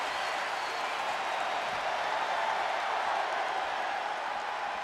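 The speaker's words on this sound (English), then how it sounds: "Listen to this crowd." A virtual wrestling arena crowd in WWE 2K24 produces a steady wash of cheering and applause, sustained and fairly distant, with no commentary heard over it.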